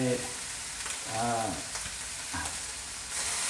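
Hot dog fried rice with fish sauce is stir-fried in a hot pan, a steady close sizzle with scraping stirs, while a voice talks briefly over it.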